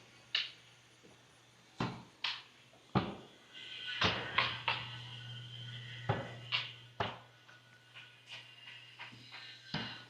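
A house door in a modern farmhouse is opened and closed, with several sharp knocks and thuds spread across the clip over a steady low hum, close and moderately loud.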